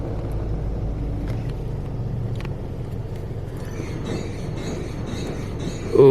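Rusty, struggling spray nozzle at a Futura SSA self-serve car wash in Tyler, Texas, giving a steady rushing hiss with low mechanical rumble throughout, rising to a louder burst at the very end.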